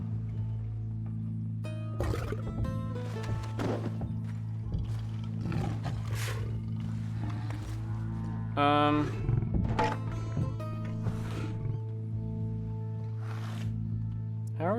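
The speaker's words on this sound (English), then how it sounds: "I think it's a real lion." A lion roars and growls in Red Dead Redemption 2 beneath a steady low drone, with rough snarling bursts scattered throughout and a louder roar near the middle, while people talk over it.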